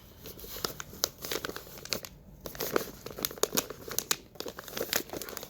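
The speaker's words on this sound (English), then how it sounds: "you're just taking your paper and rolling it around the cup" Paper rolled around a cup to form a seed-starting pot, giving close, irregular crinkling and rustling with short bursts of crumpling.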